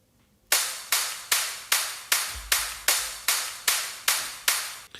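Crisp, bright clap samples hit at a steady beat, each with a quick decaying tail, played alone at moderate volume with a brief low thump midway.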